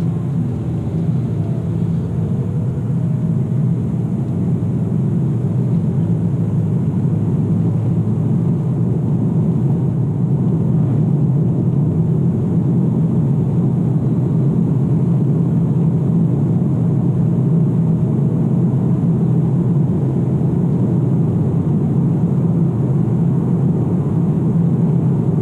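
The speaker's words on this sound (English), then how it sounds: "now I just push the accelerator pedal and it releases that brake hold and it goes" A 2017 Kia Optima SX Limited pulls away on the accelerator, with a steady low engine and road rumble heard from inside the cabin, constant and unbroken throughout.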